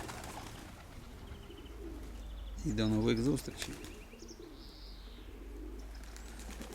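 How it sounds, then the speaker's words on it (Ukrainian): A pigeon coos briefly in a low, warbling burst amid quiet outdoor ambience, with a person speaking softly nearby. "Голуби, до речі, гуляють такі, хтось там сидить, звичайно."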